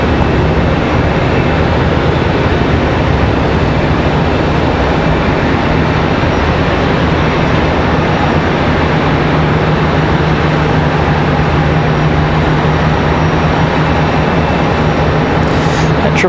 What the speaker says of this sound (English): That one coming off the runway very early.